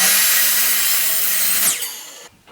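A power saw cuts wooden boards for a dartboard cabinet, giving a loud, harsh buzz through the wood. The blade then finishes the cut and the motor winds down into near silence.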